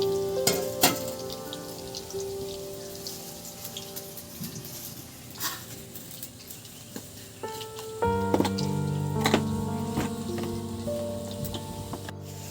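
Pakoras made with puffed and flattened rice frying in hot oil, a continuous crackling sizzle with scattered pops and clinks from utensils, faint and close, with no talking.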